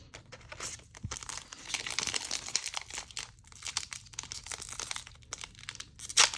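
Foil wrapper crinkles and tears in irregular bursts, close up, as a small Pokémon card booster pack is pulled open by hand.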